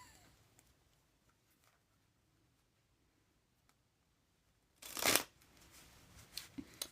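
A deck of playing cards is shuffled in one quick, crisp riffle burst, followed by a few soft taps and clicks, all close and otherwise quiet.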